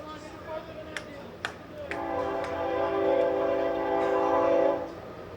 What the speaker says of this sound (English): As we hear we got a train through here about the same time every evening